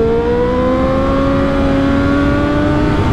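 Triumph Daytona 675 R three-cylinder motorcycle engine from a 2016 1-of-1 edition, holding a steady, loud whine with slowly rising pitch as it pulls through the revs, continuous for the whole stretch with no talk.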